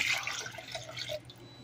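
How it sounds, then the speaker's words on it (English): Cold water pours into jello with a soft, close trickling and splashing that fades slightly toward the end. "I'm going to pour the cold water in the jello."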